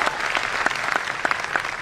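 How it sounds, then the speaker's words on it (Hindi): A seated crowd at a talk praising people who earn monthly cheques through Modicare breaks into loud, dense applause, with sharp individual claps standing out throughout the brief burst. "तालियां होनी चाहिए कि नहीं होनी चाहिए?"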